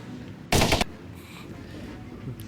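An assault rifle in the shooter game Mace Griffin: Bounty Hunter fires one short, loud burst of rapid shots lasting about a third of a second, followed by quiet game ambience.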